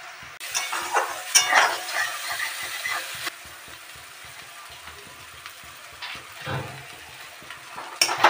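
Spices frying in oil in a pan for a drumstick flower curry, a soft intermittent sizzle with occasional stirring scrapes and clinks.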